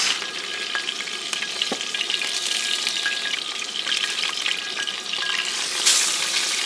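Ahi tuna fries in a pan, giving a steady, close sizzle and crackle that holds for several seconds with a few small pops and clinks of cookware.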